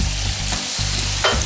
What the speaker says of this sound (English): now while that meat is sizzling